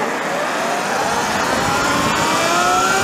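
Sur Ron Chi electric motorcycle with a 72V 51Ah battery at full throttle, a rising electric-motor whine riding over constant rushing wind noise, loud and steady for a few seconds.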